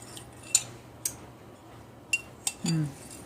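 A spoon stirs peppermint into a skin salve mixture, making a few light, sparse clinks against a container at close range, with quiet gaps between them.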